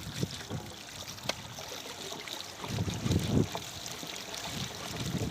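Water rinsing a drip irrigation filter mesh, a steady trickling and splashing stream with a few louder gushes midway, continuous and fairly close.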